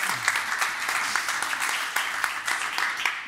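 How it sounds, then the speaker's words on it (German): Studio audience applause welcoming the Green Party's lead candidate onto a housing talk show before a state election, a steady dense patter of many hands lasting a few seconds, fairly close and unaccompanied by talk. "Ihr Applaus."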